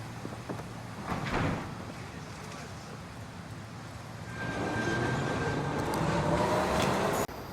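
A subway train in the video game Warzone rumbles past, its noise swelling louder partway through with a faint metallic whine, ending in a sharp clunk.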